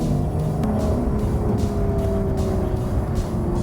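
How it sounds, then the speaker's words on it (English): A Lotus Evora 400 with the automatic gearbox in manual mode accelerates hard, its engine note rising and then dropping at each quick gear change, a sustained loud roar heard from inside the car. "Lotus claim it shifts twice as fast, so let's put it into the manual mode and see if that is true"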